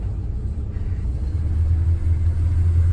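A pickup truck's engine runs in extreme cold, a loud, close, low rumble that grows slightly stronger through the moment.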